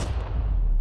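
A TNT charge blowing up a steel safe goes off as one heavy, rumbling blast that stays loud and dense with low boom and roar through the whole short moment.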